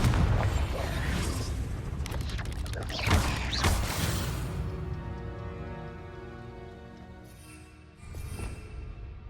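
Confringo blasting spell explosions in Hogwarts Legacy, several heavy booming bursts in the first half, then a long ringing decay and a smaller blast near the end.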